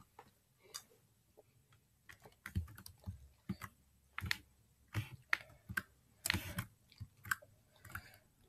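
Computer keyboard keys pressed while playing the game Happy Wheels, irregular clusters of sharp close clicks and taps with short pauses between bursts, no talking.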